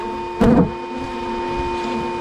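A vacuum hose runs with a steady tonal whine near insects in a Mississippi swamp, with one brief louder rushing surge as the hose is moved.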